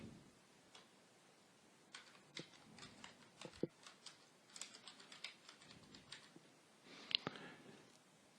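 A file name being keyed in on a computer keyboard, with irregular quiet clicks of keystrokes in short bursts and pauses, heard close and faint with no talking.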